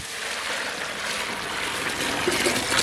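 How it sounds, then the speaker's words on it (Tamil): Hot water gushes steadily over cauliflower as it is rinsed, a close, loud, continuous splashing rush that swells slightly toward the end. "காலிஃப்ளவரில் வெந்நீர் சேர்த்து இப்போ அலசி எடுத்துக்கலாம்"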